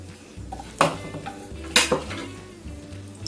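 Oil poured into a cooking pan for aloo keema, with clattering of a pot and utensil, a couple of sharp metallic knocks, and a faint sizzle in a quiet kitchen.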